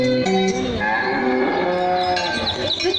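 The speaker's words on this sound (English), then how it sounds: "They see a herd of cow passing by." Several cows mooing in a herd passing by, long overlapping lowing calls filling the whole stretch, fairly loud and close with no talk.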